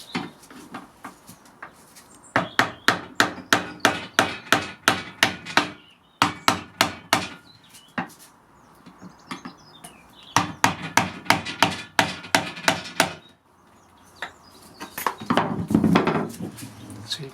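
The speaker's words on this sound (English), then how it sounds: "it's just a case of getting a chisel underneath, a bit of a tap and lever stuff out" A chisel is tapped under parts of a scythe to lever them off: close, sharp metallic taps in quick rhythmic bursts with short pauses between runs, ending in a rougher scraping rustle.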